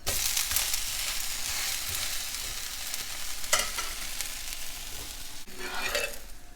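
A freshly flipped ragi dosa sizzles on a hot pan in a steady, close crackle, with a few sharper scraping clicks of a utensil breaking through now and then.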